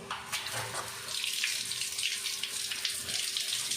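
Tap water runs continuously over goat tripe being washed in a sink, a close, steady splashing and gushing stream with shifting spatters as the tripe is rinsed by hand.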